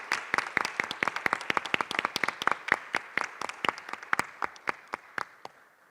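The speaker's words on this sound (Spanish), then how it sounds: "Felicitaciones y aplausos," Scattered applause from a small university debate audience, with distinct individual claps in an uneven rhythm that thins out and fades to a few last claps.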